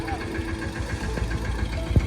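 Tractor engine chugging as it arrives at a village farm, a steady low idling rumble with a knocking pulse, a sharp bump near the end.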